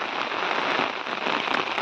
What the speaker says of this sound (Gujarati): આપણે વરસાદ ચાલુ છે